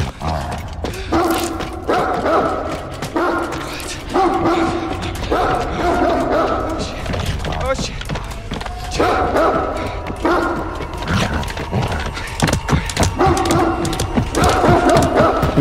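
A dog barks in the horror game Until Dawn, sharp repeated barks in rhythmic bursts about every second over a rumbling, tense game soundscape.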